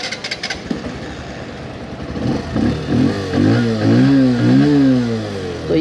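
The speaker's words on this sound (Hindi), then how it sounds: "तो ये था फ्रेंड्स इसका एग्जॉस्ट नोट" Bajaj 125cc motorcycle, close by, sputters and then revs several times in rising and falling blips, its exhaust note turning throaty and uneven over a low idle.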